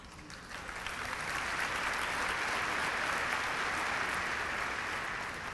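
Sustained applause from a large audience at a peace summit at Emory University, steady clapping building slightly in the first second and holding loud throughout.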